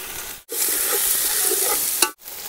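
Chicken pieces sizzle loudly in a hot pan while being fried and stirred for chicken pulao at an outdoor picnic near a waterfall, a steady continuous hiss broken by brief pauses at the start and end.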